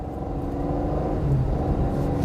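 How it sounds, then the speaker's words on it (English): A 2025 Cadillac CT5 sedan with a twin-turbo V6 drives on a test run, its engine a steady low hum and rumble from inside the cabin that swells slightly as it pulls, with no talking over it. "the sound of the V6 is a lot better than the 4-cylinder"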